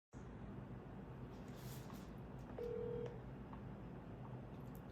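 A phone call being placed and routed to voicemail: a steady line hiss with a short, loud electronic tone of about half a second near the middle, heard alone with no talking.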